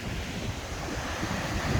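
Ocean surf and gusting wind at the shoreline near Juneau, Alaska, a steady roaring wash with rumbling wind buffeting the microphone up close.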